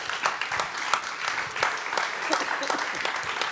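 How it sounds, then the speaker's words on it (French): At a conference, an audience applauds after a panel discussion ends. Brisk claps ring out over a murmuring crowd, fairly close and lively, for a few seconds. "Je crois qu'on peut les applaudir"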